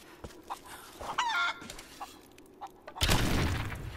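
Chicken in the video game Tomb Raider clucking in short, sparse calls with a brief squawk, followed by a sudden loud burst of noise.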